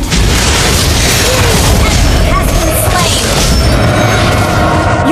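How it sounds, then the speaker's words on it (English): A turret collapses in an explosion during a Mobile Legends match, a loud, dense booming burst that fills the whole stretch amid continuous game effects. "Your team destroyed a turret!"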